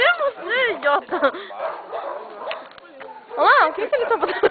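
A small dog gives several high, yipping barks and whines close by, mixed in with people talking over it.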